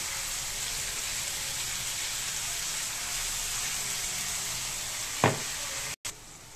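Spice paste hitting a hot pan of peas and potatoes gives a loud, steady sizzle. The frying stays dense and continuous throughout, with a brief clatter near the end and no talking.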